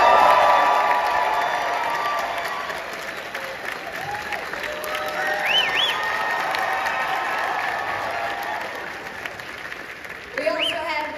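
A convention audience applauds loudly as Ralph Macchio is welcomed, sustained clapping that slowly fades with a few whistles, while a voice talks over it near the end.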